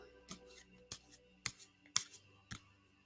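An EMBODY oracle card deck being shuffled by hand: a handful of sharp, crisp card snaps spaced about half a second apart, close and fairly quiet, with soft rustling between them and no talking.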